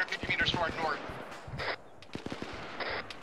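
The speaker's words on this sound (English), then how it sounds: "There's another Zeus cannon shooting at us from down to the east." Cannon and gunfire in the ArmA 3 military video game, with a flurry of sharp rapid shots followed by heavier isolated booms and scattered cracks, some fairly distant, while voices talk over the radio.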